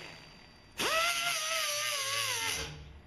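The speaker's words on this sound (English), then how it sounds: "You can use a Dremel." A Dremel rotary tool sharpening hedge trimmer blades spins up abruptly into a high whine that holds steady, grinding against the metal, then winds down after about two seconds.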